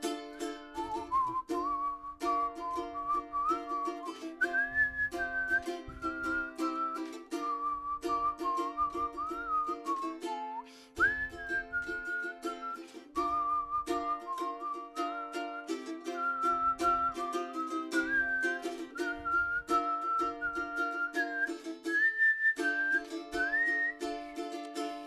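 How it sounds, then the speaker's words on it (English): A person whistles a flowing song melody, continuous and clear for the whole stretch, with wavering held notes that climb higher in places, close and fairly loud with no talking. "I can't whistle that high."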